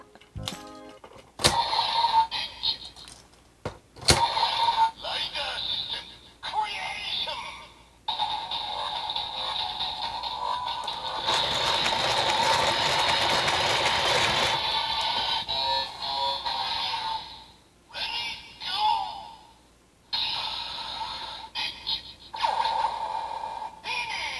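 A Kamen Rider Build DX Evol Driver toy transformation belt plays a series of electronic sound effects, with whirring, buzzing bursts and a longer noisy sustained effect in the middle, separated by brief clicks.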